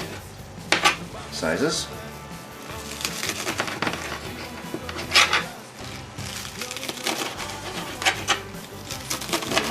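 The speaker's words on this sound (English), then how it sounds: "we're going to chop these down. So using a knife, kind of cut them down into small" Knife chopping green onions on a cutting board for a taco lasagna, a series of close, sharp cuts with a few louder knocks, heard under a person talking and light kitchen background noise.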